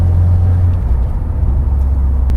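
Subaru WRX accelerating, heard as a loud, close, deep engine drone with a steady low rumble over its short span and no talking.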